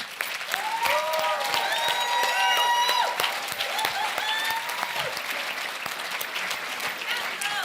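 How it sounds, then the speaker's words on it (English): Audience applause fills the room at a charity ball, a steady wash of clapping with whoops and voices mixed in, loud throughout. "Can we have a big round of applause for these amazing people?"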